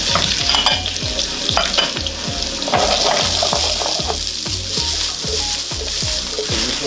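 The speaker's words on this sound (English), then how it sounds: "So this is what I'm going to saute some of the potatoes off in." Potatoes sauté in curry oil in a pan, a loud close sizzle under a fast, regular clatter of a utensil stirring and tossing, steady throughout with no voices.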